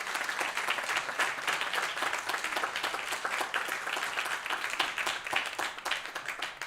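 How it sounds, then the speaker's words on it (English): Audience applause for a children's performance at an Easwaramma Day celebration in a Sai Centre hall: many hands clapping in a thick, continuous burst that holds steady for nearly seven seconds, with no talking. "they deserve a humongous round of applause"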